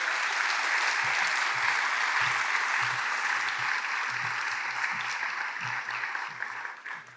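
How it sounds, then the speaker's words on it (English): Audience at a speaker series event with the Delta Airlines CEO applauding the speakers, a full, continuous crowd clapping that holds steady before tapering off near the end. "Another round of applause for both of them."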